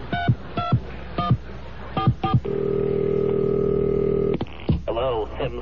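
Telephone dialing tones for a prank call: a series of short, sharp touch-tone beeps, then a long steady dial or ringing tone, then a few more brief tones, loud and clear with no one speaking.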